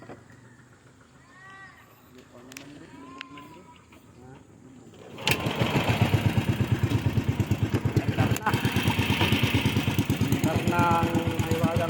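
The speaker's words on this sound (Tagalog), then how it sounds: "Andar na makina." A small outboard boat engine on a Batangas lake trip starts up after a quiet stretch of voices, then runs loud and steady with a fast throbbing beat close by.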